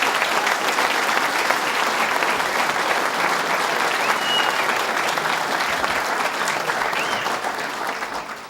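A roomful of people applauds at a power plant repowering announcement event, dense sustained clapping that holds steady and begins to taper off at the end.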